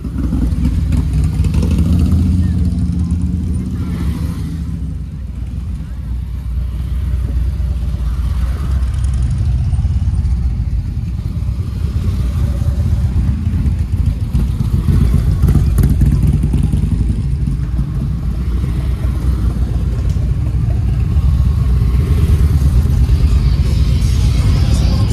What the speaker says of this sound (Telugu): ఇక్కడ కొన్ని బైక్స్ అయితే వస్తున్నాయి. Sports bikes.